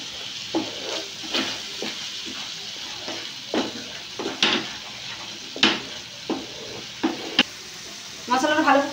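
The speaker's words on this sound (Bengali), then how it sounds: "এটা আমি নাড়িয়ে নেবো মশলাটা।" A pan of spice paste with sugar and salt being stirred. Repeated spoon scrapes and taps land at irregular intervals over a low, steady sizzle, close up, with a brief burst of sputtering near the end.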